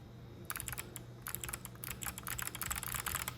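Clicky Kailh Box Jade switches clacking under steady typing on a mechanical keyboard, close and crisp, with a short pause before a second burst of rapid keystrokes.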